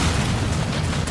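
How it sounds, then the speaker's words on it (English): A huge deadly explosion in the video game Lollipop Chainsaw. A dense, sustained roar with heavy low rumble fills the whole moment, loud and continuous, with no clear talking over it. "While you check out the enormous deadly explosion, we'll wrap up things in the booth."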